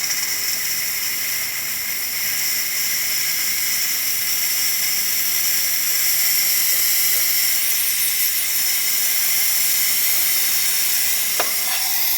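A DeLonghi Magnifica S espresso machine's steam wand hisses steadily and loudly throughout, a continuous high-pitched rush with a brief click near the end and no talking.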